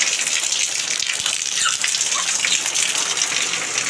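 Rainwater from a rooftop terrace gushes through a makeshift pipe into a tank as a steady, loud hiss of falling water that continues without a break.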